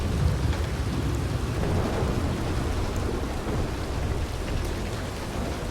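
Steady rain and rumbling thunder from a thunderstorm in a video game, a constant dense wash of rainfall with low rolls of thunder, loud and unbroken throughout with no voices.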